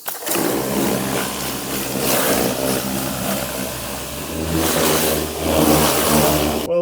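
A 1980s Jaguar engine with a suspected blown head gasket runs loud and close, its deep steady rumble swelling in two revving surges with no talk over it.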